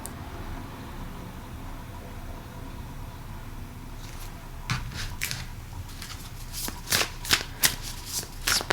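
Tarot cards being shuffled by hand, starting as soft riffling and building into a run of crisp, close snapping flicks in the second half.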